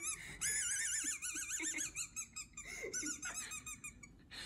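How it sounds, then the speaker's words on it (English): A squeaky dog toy swallowed by a dog squeaks repeatedly from inside it, a rapid series of high, wavering wheezy squeals in irregular bursts, fairly close and loud, with no talking. "he swallowed a squeaky dog toy"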